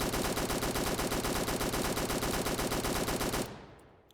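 Full-auto fire from a military M4A1 rifle in the video game Fallen: a rapid, even stream of loud, close gunshots lasting about three and a half seconds, then a short fading echo.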